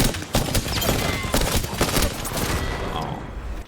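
A video game shootout, likely in a competitive multiplayer match, with dense, rapid bursts of gunfire, loud and close, crackling almost continuously with sharper individual shots standing out, under occasional speech.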